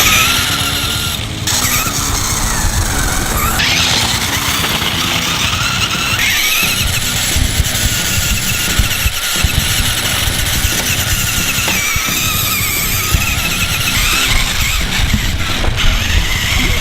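Maisto R/C Rock Crawler 3XL remote-control car driving, a steady high electric motor whine with grinding gear and wheel noise that shifts and squeals as it crawls, loud and continuous with no talk.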